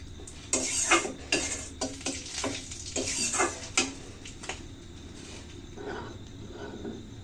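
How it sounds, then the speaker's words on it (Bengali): Bay leaves dropped into hot oil for tempering in a Bengali home kitchen, with a burst of close crackling, sizzling and spattering bursts alongside clinking pans and stirring, settling into a quieter steady sizzle. "এখন আমি ফোড়নে দিয়ে দিচ্ছি তেলের ভিতর তেজপাতা"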